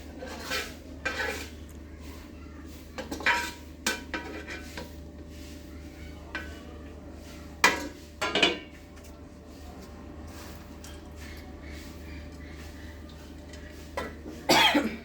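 Fried onion beresta added to a pot of white pulao, giving scattered clinks, scrapes and rustles of a spoon against the pot over quiet background hum, with a few louder clatters near the end.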